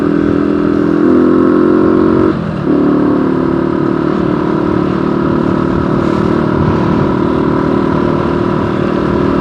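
A motorcycle rides along a road at an easy pace with a loud, steady engine drone and road noise throughout. The note dips briefly partway through, and no voice is heard.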